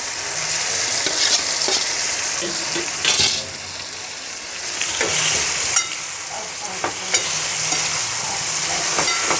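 Close pan sizzle with repeated scraping strokes of a spoon stirring cluster beans, a few louder clanks breaking the steady hiss.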